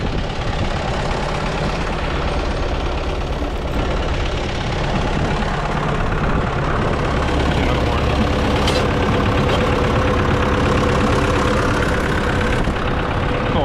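A tractor engine idles loudly and steadily throughout, a dense continuous chugging rumble with a faint knocking texture.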